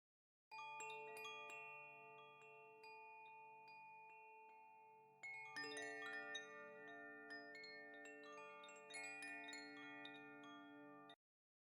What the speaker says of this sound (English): Just some simple chimes.